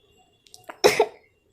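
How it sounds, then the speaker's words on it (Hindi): A single harsh cough rings out close by, preceded by a few small mouth and throat noises, then silence. "खांसी है थोड़ी सी।"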